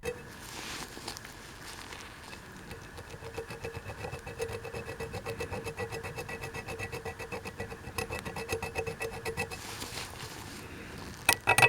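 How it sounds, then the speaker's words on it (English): A tool scratches old wax off a dirty candle holder in rapid, steady, rasping strokes close up, continuing for several seconds with a few louder knocks near the end. "Here I am scratching off that old wax that has been probably stuck to this thing for months or years."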